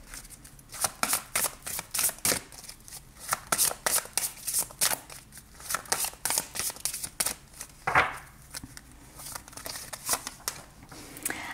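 Tarot cards being shuffled by hand during a card reading, a steady run of crisp riffling and flicking bursts, close and fairly loud, with no talking over it.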